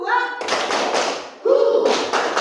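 A class of children clapping in a rhythm clapping game, short bursts of hand claps alternating with children's voices chanting counts.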